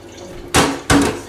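Water poured into a pot of Afghani pulao while cooking, two short splashing pours in quick succession, close and fairly loud with no talk.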